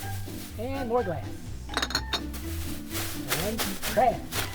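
Glass bottles and jars clink and clatter as household recycling is sorted, with several sharp chinks over a steady low background and a voice talking in between.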